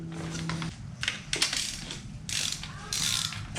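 A ratchet torque wrench clicks in quick bursts while tightening ARP cylinder head bolts on a Turbo Mk3 Supra, with several close, loud ratcheting runs separated by short pauses.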